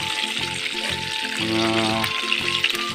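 Bangus fish fries in an old pan with a dense, steady sizzle and crackle, while a voice talks briefly over it.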